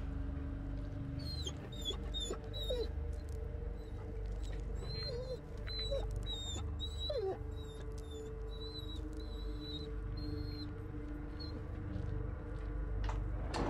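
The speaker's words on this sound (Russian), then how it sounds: "Скулит собака," In the Blair Witch video game, a dog whimpers with repeated thin, high whines that come in short bursts over a low, steady rumbling ambience, with no one talking.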